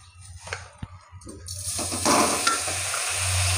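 Grated coconut and sugar stirred in a wok over a gas flame for Bengali coconut nadu, starting with scattered scrapes and taps, then a steady close sizzle with spatula strokes building through the second half.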